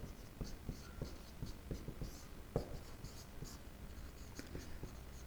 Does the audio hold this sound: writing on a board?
yes